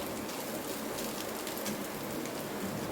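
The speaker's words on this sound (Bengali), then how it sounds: "ম্যাগি মশলাটা এখন আমি দিয়ে দিলাম প্রত্যেকটা, এটা ভালোভাবে আমি ভেজে নেব।" Maggi instant noodles frying with Maggi masala in a pan, giving a steady, dense hiss that stays even and close throughout, with no voices.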